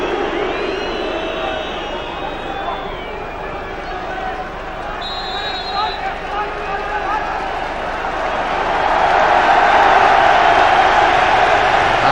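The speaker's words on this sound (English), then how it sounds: "The applause, the noise that you can hear is because of the introduction of Robbie Fowler club captain" A football stadium crowd at a Liverpool match swells into applause and noise as club captain Robbie Fowler comes on as a substitute, a broad sustained roar rising near the end beneath a commentator's voice.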